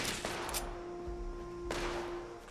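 Fallout 76 gameplay gunfire rattles as a loud, sustained barrage of rapid shots over a steady tonal hum, with a sharper crack standing out near the end.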